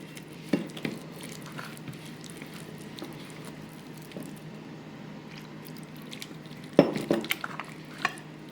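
Soft, wet squishing and patting up close as goat brain is mixed by hand with spices and a little sprinkled water, with a few sharper clicks near the end.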